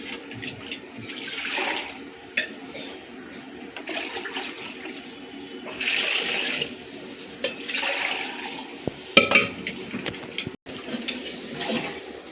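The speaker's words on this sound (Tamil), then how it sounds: "இதெல்லாம் இப்போ தண்ணி போட்டு நல்லா மிக்ஸ் பண்ணணும்" Water pours and splashes into a pot of mutton biryani in uneven gushes, with a few clunks and knocks between the bursts.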